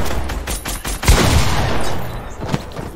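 Rapid bursts of automatic gunfire from a multiplayer shooter video game, loud and dense with overlapping shots and a heavy boom near the middle, continuous throughout.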